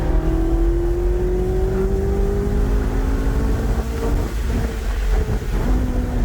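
Ferrari 458 Italia engine pulling hard, a loud rising howl that climbs steadily, drops briefly at a gear change near the end and climbs again, with wind rush over the microphone.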